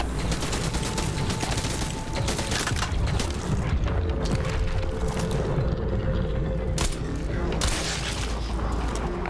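Dense, continuous rapid gunfire in the video game Crysis 3 with booming impacts, loud and unbroken throughout, over a low rumbling backdrop.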